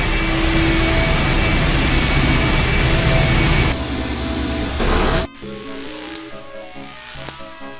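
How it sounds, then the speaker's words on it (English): An engine starting up in the I Have No Mouth, and I Must Scream video game, as a loud, dense jet-like roar that holds steady, then cuts off abruptly to a quieter layered hum with faint musical tones. "The engine's starting up again."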